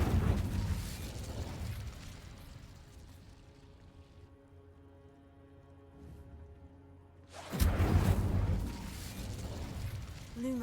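An Incendio fire spell is cast in a Harry Potter video game: a burst of crackling flame opens, a quieter tonal hum lingers, then a second loud fiery whoosh erupts near the end.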